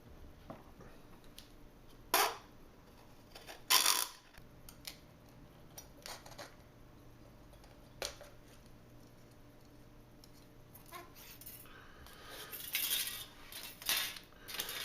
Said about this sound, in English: we're then going to cut this excess material off using that line as a guide